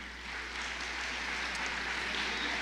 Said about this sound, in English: Big applause, George.